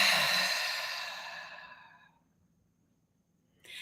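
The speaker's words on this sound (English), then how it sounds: "Take a deep breath." One long, close exhale of a deep breath rushes out and fades over about two seconds into near silence, with a brief sound returning at the very end.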